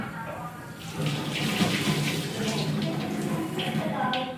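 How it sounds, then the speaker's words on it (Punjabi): Running tap water splashes steadily over hands being washed at a sink, a continuous close rush of water that holds for several seconds without a break. "ਮੈਂ ਆਪਣੇ ਹੱਥ ਵੀ ਧੋ ਲਵਾਂ"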